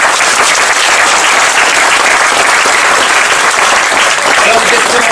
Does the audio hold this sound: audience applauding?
yes